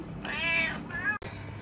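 Cat at an animal shelter gives two clear meows, the first long and drawn out, the second shorter, close and fairly loud, followed by a brief handling noise.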